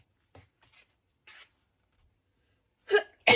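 Quiet small noises and a short breath lead into a sudden sharp sneeze near the end, loud and close.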